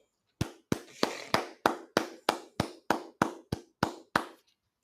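Audience clapping in about a dozen sharp, evenly spaced claps, loud and close, steady rhythm with no talk, at a scripture class in Harlem, New York.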